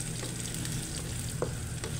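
Pork cubes for kare-kare sauté in a hot pan until light brown, giving a steady close sizzle with a few faint stirring clicks and no voices.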